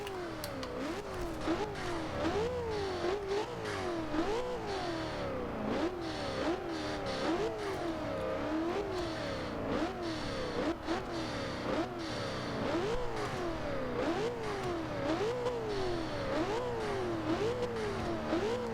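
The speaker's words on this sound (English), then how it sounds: "You can really hear that turbocharger, but God, this engine sounds so great." A 2000 Ford Mustang SVT Cobra R engine in the racing game Forza Horizon 2, loud and steady, climbing and dropping through repeated rev sweeps as it shifts through the gears, with a turbocharger whine.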